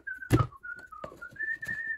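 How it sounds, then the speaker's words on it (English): A person whistles a clear, steady tune in short sustained notes, close and alone, with a few soft knocks and clatters underneath. "does my whistling actually sound that clear?"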